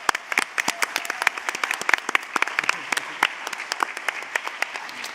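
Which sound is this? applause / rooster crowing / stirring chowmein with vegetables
applause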